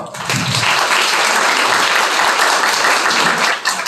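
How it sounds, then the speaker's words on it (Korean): A crowd at a political rally in Daejeon breaks into loud, sustained applause, a thick continuous roar of clapping that swells quickly and stays full before easing slightly at the end. "박수 한번 쳐주시죠"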